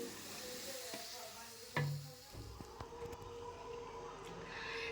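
Potatoes fry in a pan with a quiet, steady sizzle, broken by a sharp clatter of utensil against the pan and a few light scrapes of stirring.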